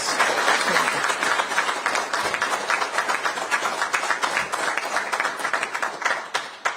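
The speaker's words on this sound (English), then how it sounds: "Would you please give her a round of applause?" Audience applause at a ribbon cutting ceremony for a campus hall, a steady moderate wash of many hands clapping that fades near the end.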